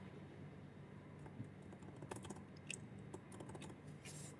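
Typing on a computer keyboard while setting up STM32 Nucleo GPIO code, a run of light, quick key clicks of uneven rhythm over a low steady hum, close and fairly quiet, with a louder keystroke at the end.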